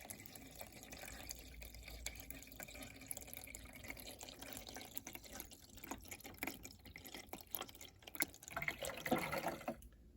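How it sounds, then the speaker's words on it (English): Water is poured into the tank of a TURBRO Greenland GLH20 humidifier, a faint trickling and dripping that grows slightly fuller toward the end, close but quiet. "So you can just simply pour it right into the side here."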